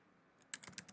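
A few quick keystrokes on a computer keyboard, close and fairly faint, following near-silence, while folders are created during PhoneGap 2.5.0 setup.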